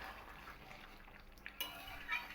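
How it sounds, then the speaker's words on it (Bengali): A spoon stirs egg curry with taro (kochur mukhi) in a pan, soft scraping and light clinks of metal on the pan, faint and intermittent over a quiet background. "এবার এটাকে আমি ভালো করে একটু নাড়িয়ে নিয়ে"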